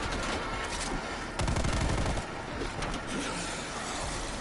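Gunfire rings out in rapid bursts, loud and dense fusillades with a heavier volley in the middle, cutting through a noisy background.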